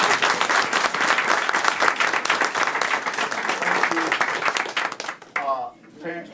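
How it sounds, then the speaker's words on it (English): An audience at a school board meeting breaks into sustained, dense applause for the parents. The clapping stays loud and steady for about five seconds, then thins out and stops as a voice begins speaking. "Let's give the parents a round of applause."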